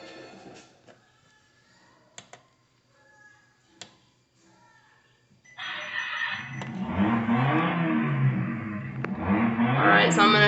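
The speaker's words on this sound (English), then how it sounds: "So now I'm just going to turn it back on just for verification purposes, move the wheels" A Power Wheels buggy that had been left in the rain, its electric motor switched on and wheels turning, starting after a few scattered clicks and then a steady whirring drone that grows slightly louder and continues to the end.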